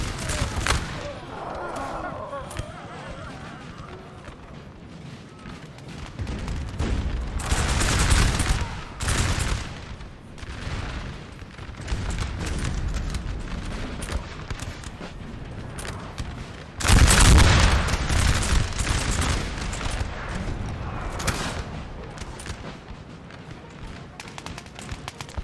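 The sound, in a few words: musket gunfire volleys in Napoleon Total War video game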